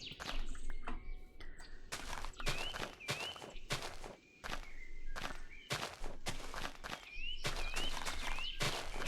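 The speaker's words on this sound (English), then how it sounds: "I wonder if it's because we're in a biome that you get to hear birds." Birds chirp in a Minecraft biome as the player walks along, short tweets and calls repeating among loud, rhythmic game footsteps that dominate the sound.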